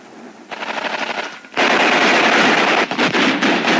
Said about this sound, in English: Machine gun fire still comes from this and other foxholes.